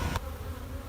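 Honeybees buzz in a steady close drone after a brief knock at the start, with no voices.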